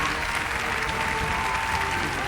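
Concert audience applauding after a performance by an American singer-songwriter in Mongolia, a dense, steady wash of clapping from a large crowd heard from some distance, continuous throughout.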